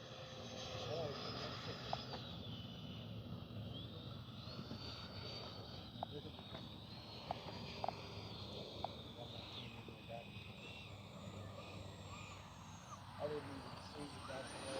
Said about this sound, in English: Gear is down. All right, let's see if we can't do a touch and go.